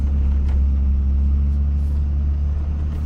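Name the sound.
Dodge Ram 5.9 Cummins truck driving through deep snow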